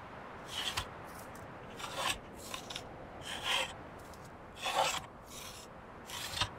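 Planks are crafted at a carpenter's rack in the Medieval Dynasty video game, a series of rasping sawing strokes in regular bursts, close and moderately loud with no talking.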